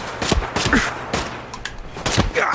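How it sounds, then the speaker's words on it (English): Video game gunfire, several sharp shots cracking out in irregular succession amid busy game noise, close and fairly loud, with no talk over them. "I got somebody shooting me from behind"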